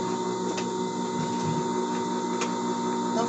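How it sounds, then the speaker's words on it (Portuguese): An overlock sewing machine finishes a seam on a dress with a steady, close mechanical hum. A few faint ticks sit on top of the hum in a short continuous run. "Vou no overlock, passar o overlock aqui para dar acabamento"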